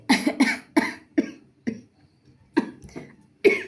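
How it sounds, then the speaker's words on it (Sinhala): Several sharp coughs from one person, close and fairly loud, coming in uneven bursts with short pauses between them, and no other sound alongside. "කැස්සක් ඇවිල්ලා"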